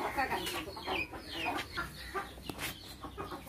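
Chickens clucking at a village house, with several close, loud birds giving overlapping clucks and short calls that run continuously, and a faint voice underneath.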